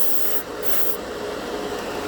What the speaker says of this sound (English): the airbrush does work with the right compressor